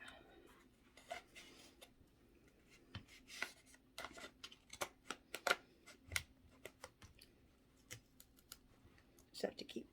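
Scissors cut through a paint roller cover pressed down against a tabletop, giving a string of sharp, uneven snips and crunches at close range.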